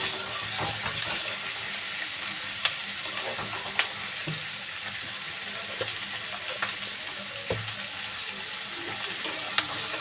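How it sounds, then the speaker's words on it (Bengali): Onions frying in a pan for fried rice give a steady, close sizzle, with scattered sharp pops and crackles and occasional light clinks of stirring throughout, and no talking. "পেঁয়াজটা ভাজা ভাজা হয়ে গেছে"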